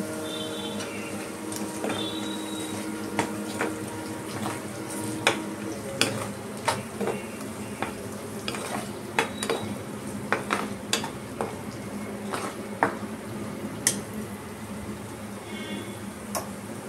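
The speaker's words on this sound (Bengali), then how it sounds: "এবার আমি এর মধ্যে কাঁচা লঙ্কা আর এই যেগুলো আলুগুলো ভেজে রেখেছিলাম সেইগুলো দিয়ে দিচ্ছি" Green chilies and fried potatoes tipped into a pan and stirred for a Bangladeshi basa fish dish, with repeated sharp clinks of a utensil against the pan over a steady low background.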